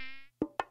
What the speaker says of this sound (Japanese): 船に乗ってからもずっと蚊の音色を聞きながら